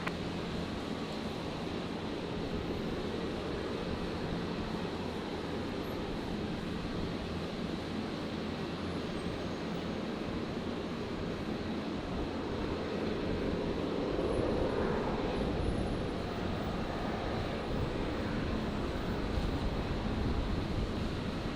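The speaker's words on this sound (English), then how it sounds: "Jetstar 907 on screen here, the 320 arriving from Townsville" A Jetstar A320 airliner arriving at Brisbane Airport from Townsville makes a steady broad roar with a slow swell around the middle, heard from a distance outdoors with wind.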